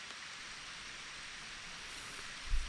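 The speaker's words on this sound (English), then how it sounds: "you can see it's raining in the morning here" Steady soft patter of morning rain falling at a reservoir, a continuous even hiss with no voices, and a brief low bump near the end.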